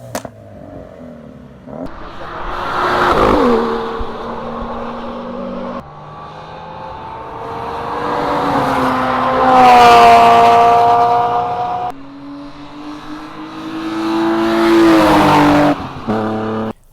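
A Ford Focus RS runs laps on a racetrack during a track day. The engine climbs and drops through gear changes in repeated surges, with tire squeal and a loud, close, continuous drone throughout and no talking.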